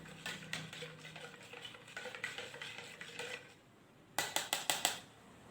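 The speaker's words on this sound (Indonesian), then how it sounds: "kita aduk hingga rata" A spoon stirs water into a mixture, making quiet, repeated scraping clinks against the container in an uneven rhythm, followed by a short pause and then a louder burst of rapid clinks.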